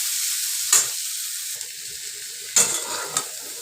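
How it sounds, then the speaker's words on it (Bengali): Potato and cauliflower frying in oil in a wok, a close steady sizzle broken by a couple of sharp stirring scrapes. "এই দেখো বন্ধুরা, আলু ফুলকপি ভাজা হয়ে গেছে"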